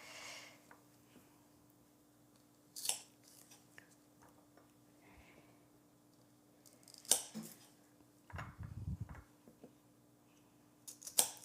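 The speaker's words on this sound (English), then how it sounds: "my little zucchinis, which I could leave whole, I am actually going to cut in half lengthwise" A kitchen knife slices small zucchinis in half lengthwise on a board, making a few isolated crisp cuts and taps spread seconds apart, quiet and close against a faint background hum.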